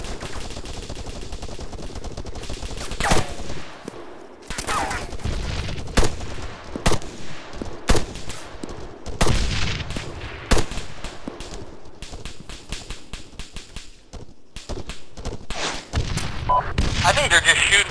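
Sustained automatic gunfire and sharp single shots in an Arma 3 military firefight, bursts and booms recurring every second or two at close range over a continuous battle din, with voices talking beneath.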